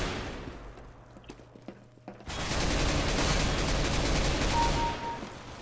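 Gunfire in Counter-Strike: Global Offensive, a few scattered shots over quieter game sounds, then a sudden dense burst of rapid automatic fire that keeps going loud for several seconds before easing off.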